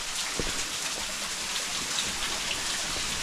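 Steady broadband rush of a small waterfall on the Šoštarica stream in a gorge in eastern Slovenia, continuous and close with no pauses, like heavy falling water.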